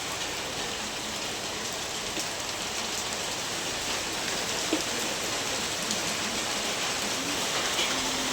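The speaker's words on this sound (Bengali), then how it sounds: "এই হচ্ছে অঝরে বৃষ্টি শুরু" Heavy rain pouring down after a long hot spell, a dense, even roar of falling water that holds steady for the whole stretch, close and loud, with no voices.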